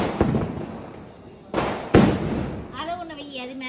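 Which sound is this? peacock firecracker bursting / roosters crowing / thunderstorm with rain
peacock firecracker bursting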